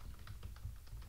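A filename is typed on a computer keyboard at the command line while enabling SSH on a Raspberry Pi, with quick, soft, faint keystrokes tapping in an even rhythm.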